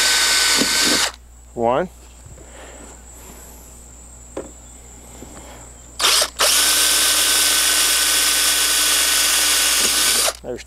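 Power drill driving screws into the bottom ends of U-stand angles, two loud sustained bursts with a longer run near the end, a short whir in between, and someone speaking briefly in a quieter gap.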